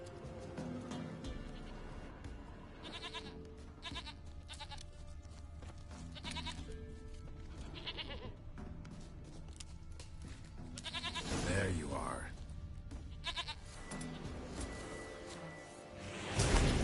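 A goat bleats in The Witcher III video game, its calls mixed into game music and background sound, with someone speaking briefly nearby.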